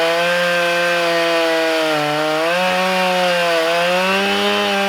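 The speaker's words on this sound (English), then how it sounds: "check out their Stihl chainsaw converted into a sawmill" A Stihl MS 661 chainsaw fitted to an Alaskan sawmill runs continuously while milling wood. The engine drones loud and close with a steady high whine that dips and rises slightly in pitch as the cut proceeds.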